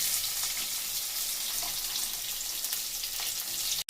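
Chopped onions and cumin seeds sizzling and frying in a pan, a loud continuous crackle with occasional stirring scrapes, ending in a sharp clunk.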